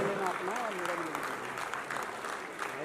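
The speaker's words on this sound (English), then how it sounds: "please give them a huge round of applause" Steady applause from a large crowd at an award event fills the whole stretch, dense and continuous, with a voice speaking over it from the stage at the start.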